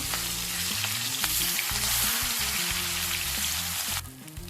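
Pieces of shol (snakehead) fish frying in hot oil on their second side, a loud, steady close sizzle with low crackling that drops and thins near the end.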